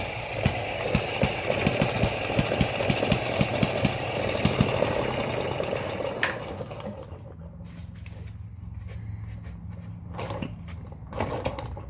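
Small Chinese-made hit and miss engine running with a fast string of sharp firing pops that carry on for about six seconds, then stop as the engine dies and only sparse clicks and a low hum remain.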